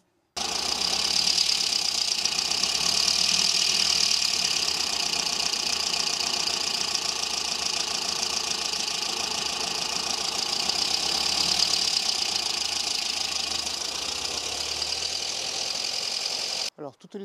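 An engine fitted with two double-barrel carburettors runs at a steady idle, a close, even mechanical drone with a slight rhythmic knock lasting about sixteen seconds before cutting off.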